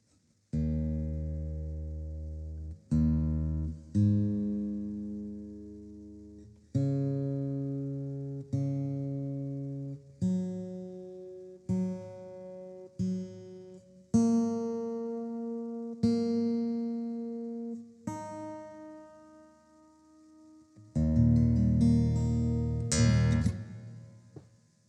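A sequence of sustained tuning notes, each struck and left to ring before the next, pitch stepping through a series of strings, loud and clear with no talk.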